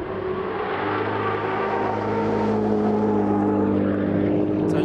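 Ford Focus RS power sliding in all-wheel-drive drift mode, its engine a steady, loud droning roar held throughout with no pauses.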